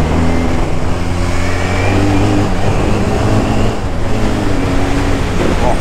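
A Honda CB 450 DX motorcycle engine idling rough and misfiring during carburetor tuning, a loud close-up uneven throb with irregular stumbles and hesitations running continuously throughout.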